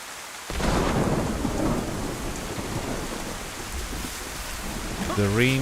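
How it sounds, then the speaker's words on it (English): A thunderstorm in the Livonia survival video game brings a sudden burst of heavy rain and rumbling thunder that continues steadily and loudly, and a voice speaks briefly at the end. "The rain is confusing the hell out of me."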